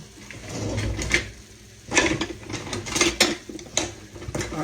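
Kitchen clatter of a big metal spoon being pulled from a cutlery drawer while cooking hamburger steak with gravy over a biscuit: rattling silverware and a drawer bumping, close and moderately loud, in several short bursts.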